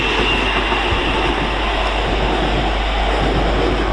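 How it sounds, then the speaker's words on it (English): London Northwestern passenger train from London Euston to Crewe, units 350247 and 350107, running through Stafford as a continuous close rumble and rolling roar, no voices. "This is working on London North Western service from London Euston to Crewe."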